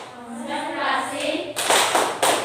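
Classroom concentration clapping by a group of schoolchildren with their teacher, a few sharp bursts of hands clapping together close by, following a brief stretch of voices.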